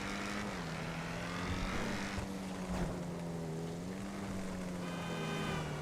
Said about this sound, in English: The backfires and the engine sound are just make this car.